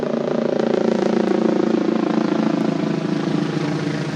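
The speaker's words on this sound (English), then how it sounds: "I'll just wait for this helicopter to pass" A helicopter passes overhead, its steady thudding rotor drone filling the whole stretch at close, loud, nearly constant level with no talk over it.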